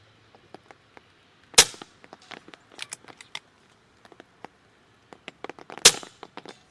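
A .22 caliber air rifle fired at a target: two sharp, loud cracks about four seconds apart, with quieter clicks and handling taps scattered between them in an otherwise quiet setting.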